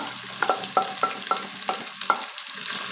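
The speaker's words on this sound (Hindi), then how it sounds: "अब हम इसके अंदर प्याज शामिल कर देंगे" Sliced onions tossed into a pan of golden frying ginger and garlic, a soft sizzle broken by sharp, regular clinks of a spoon stirring about twice a second, close and fairly quiet, no speech.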